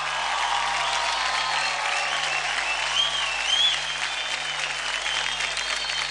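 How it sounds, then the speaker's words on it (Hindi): A studio audience at a televised children's dance show breaks into loud, sustained applause, a dense even roar of clapping with faint cheers rising briefly partway through. "जोरदार तालियां"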